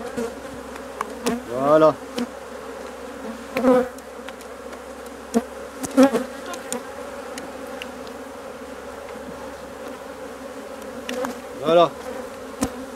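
Honey bees buzz and whine around an open beehive as the queen excluder is lifted, a constant close drone with repeated louder passes of single bees, and someone speaks briefly.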